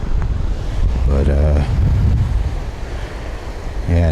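Ocean surf rolls onto Pacific Beach with steady wash and wind buffeting the microphone, while a person talks over it in bursts.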